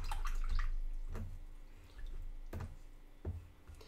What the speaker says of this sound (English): I'm going to rinse my brush